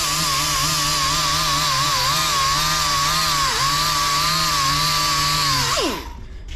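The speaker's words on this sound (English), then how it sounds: "that's the little die grinder, and this is a metal table here" A small pneumatic die grinder with a mild abrasive wheel grinds on a metal table, giving a loud, steady high whine that dips briefly under load, then spins down and cuts off near the end.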